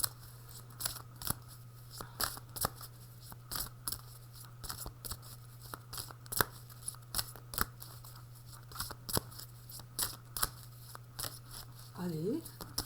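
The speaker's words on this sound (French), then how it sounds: "je continue de battre les cartes" A deck of tarot cards is shuffled in quick, faint riffling bursts, the soft crisp snaps repeating irregularly over a low steady hum.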